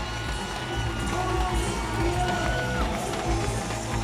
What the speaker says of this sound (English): The crowd is loving Logan Martin here in Croatia